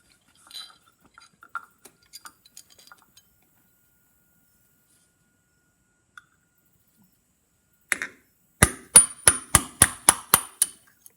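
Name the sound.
punch hammered to drive pin out of phonograph lift lever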